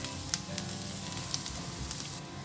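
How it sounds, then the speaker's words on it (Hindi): Garlic fries in a pan with a steady close sizzle and occasional small pops and crackles, heard on its own without any voices. "लहसुन को ना ज़्यादा ब्राउन ना करें, बस 1 मिनट के लिए इसे भून लेते हैं."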